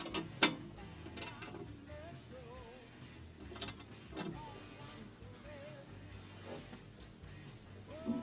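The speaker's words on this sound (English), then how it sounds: "we just hold the bolt still, turn the nut, and just lock it in" A wrench ratchets as a nut is tightened on an exhaust bolt during an axle-back exhaust install on a 2017-2019 Fiat 124 Spider, giving faint clicking bursts with some louder metallic knocks scattered throughout.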